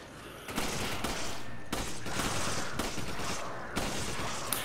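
Dense bursts of automatic gunfire from enemy soldiers in Resident Evil 5, loud rapid volleys rattling almost continuously with brief gaps between sprays.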